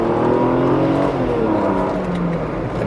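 A Mercedes-Benz W124 station wagon's engine revs and pulls on the road, a loud, close, steady drone with smoothly shifting pitch and no talking.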